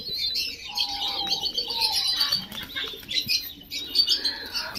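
Pigeons of the Kesariya breed flutter and flap their wings nearby amid soft cooing and chirping birds, in short irregular bursts.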